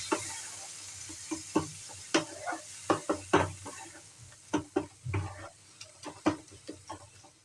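Spices are stirred and fried in oil for doi katla: irregular knocks and scrapes of a spoon against the pan ring out over a low, faint sizzle.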